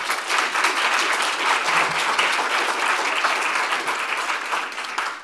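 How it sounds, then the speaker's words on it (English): An audience at an event applauds steadily for about five seconds, a dense, even wash of many hands clapping at fairly constant loudness that thins slightly at the end. "So just a round of applause, please"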